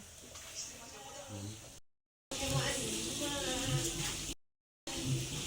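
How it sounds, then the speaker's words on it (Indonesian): Tofu fries in a pan with a steady crackling sizzle, broken by brief gaps, while people talk over it in a kitchen. "Ini goreng tahu, ada tunggu sambal goreng ya."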